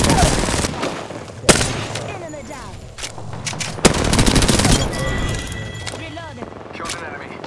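Bursts of gunfire from the PC video game Apex Legends: loud sharp shots and rapid volleys with short gaps between them, mixed with other game sound effects.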